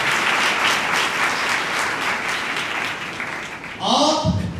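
An audience gives a bishop a loud, sustained round of applause at a Christian youth church gathering, dense clapping filling most of the stretch before a voice cuts in near the end.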